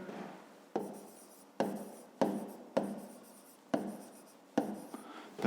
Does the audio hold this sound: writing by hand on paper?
yes